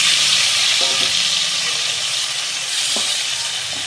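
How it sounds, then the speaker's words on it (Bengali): Boiled vegetables fry in oil in a kadai, giving a loud, continuous sizzle up close, with a couple of brief clinks from stirring breaking through the hiss. "এবারে সিদ্ধ করে রাখা সবজিগুলোকে দিয়ে একটু ভেজে নেব"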